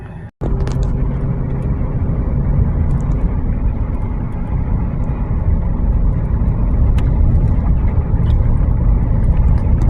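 A GMC Envoy SUV towing a heavily loaded trailer drives steadily, its engine and road noise forming a loud, continuous drone after a brief sharp start.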